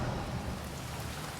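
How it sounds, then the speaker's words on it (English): Steady rain falls on a late Sunday morning near a garden, a dense continuous hiss with low rumbling texture, close and even throughout with no voices. "It's late morning, and it's raining."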